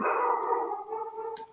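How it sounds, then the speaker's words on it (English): A dog howls in a long drawn-out tone that breaks into a short bark at the end, close and loud indoors. "sorry guys, that's my dog"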